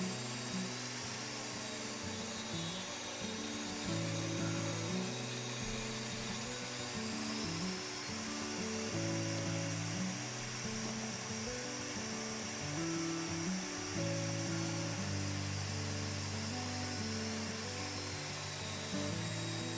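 A saw cuts a second pass through a flipped wooden board. Steady, loud, tonal motor whine and cutting noise run without pause for about twenty seconds, with the pitch shifting as the blade moves through the wood.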